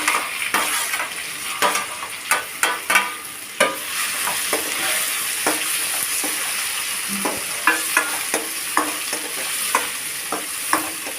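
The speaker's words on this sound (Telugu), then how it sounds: "ఇప్పుడు ఇందులో ఒక ఎండుమిర్చి వేసి ఈ కీరా ముక్కల్ని ఇందులో వేసేసుకోండి" Cucumber pieces and a dry red chili fry in hot oil for a cucumber and spinach stir-fry, giving a steady close sizzle broken by frequent sharp scraping and stirring knocks of a utensil against the pan.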